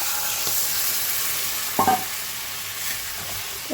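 Hot water poured into a pan of spices and peas being fried for a vegetarian curry, heard as a steady close sizzle with a brief louder splash and hiss partway through.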